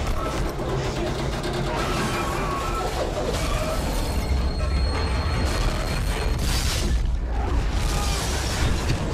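A rattling, screeching train ride in the video game Dead Space 2, with a continuous loud mechanical roar and metallic squeals throughout and no voices.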